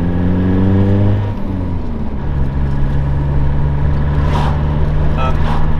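Turbocharged VW Polo estate fitted with a larger BMW 330D turbo, engine revving hard under boost: a loud, dense roar that climbs, drops and settles into a steady high drone, close up, with a faint whistle late on.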